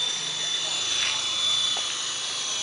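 Helicopter drone hums steadily overhead, a continuous, moderately loud rotor and engine whine with a high tonal note, heard from the ground with no talk over it.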